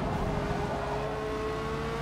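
Engines drone steadily with a high, sustained whine, like cars racing together in a game, continuous and fairly quiet with no talking.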